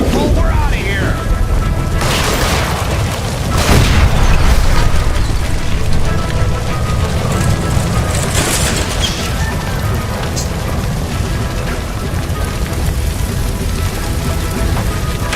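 A gas line explosion in the L.A. Noire electroplating plant mission after the line is shot: a broad, heavy boom bursts out, followed by a sustained roaring rumble and crackling debris that fill the scene loudly throughout.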